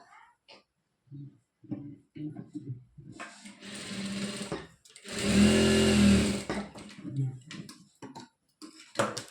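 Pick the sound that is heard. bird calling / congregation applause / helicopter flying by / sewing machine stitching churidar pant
sewing machine stitching churidar pant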